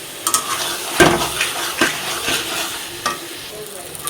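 Egg curry sautés in oil in a pan while a spatula stirs it, giving soft sizzling under several sharper scraping and knocking strokes against the pan, close and clear with no talk.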